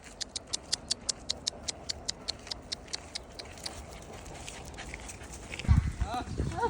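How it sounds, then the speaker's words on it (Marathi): Buffaloes walking home make a steady run of sharp, evenly spaced hoof clops for the first few seconds. The clops then blur into shuffling movement, and a louder thump comes near the end under faint background noise. "आता म्हशी सर्व घरी आलेत."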